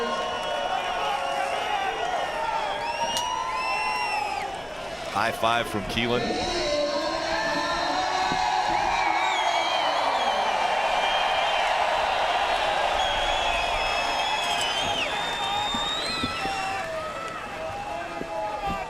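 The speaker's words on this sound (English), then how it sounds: "He makes it to victory lane, and listen to the crowd." Michigan race fans at a NASCAR Cup Series race roar and cheer continuously as the driver pulls into victory lane, a loud, sustained crowd wash with announcers talking over it.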